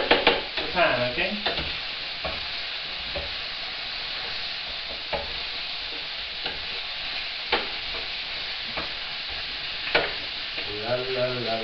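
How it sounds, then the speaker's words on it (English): Paella stirred in a hot pan: a continuous close sizzle and fry hiss under repeated scraping strokes of a utensil across the pan base, with no talking. "Now, give it a stir around."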